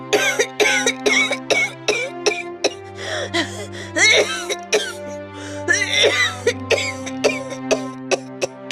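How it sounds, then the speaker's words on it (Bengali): A mother character in an animated cartoon coughs repeatedly in harsh, close bursts, with strained groaning and moaning breaths between the coughs and over a sustained low musical drone. "কি হলো মা, কাশিটা আবার বেড়েছে?"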